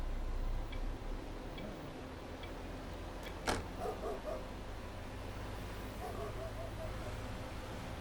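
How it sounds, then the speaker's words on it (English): In Euro Truck Simulator with ProMods, unseen dogs bark a few times from a distance in Norway, clustered in two short bursts over a low steady bus engine hum. "There's the dogs again. I don't see them, I just hear them."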